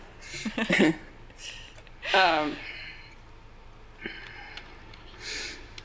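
A few wet, congested sniffs through a runny nose, spaced out with quiet breathing and soft background noise between them.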